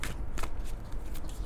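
Tarot cards being shuffled by hand, a series of crisp, close riffling bursts at irregular intervals, several distinct shuffles with quiet pauses between, no speech.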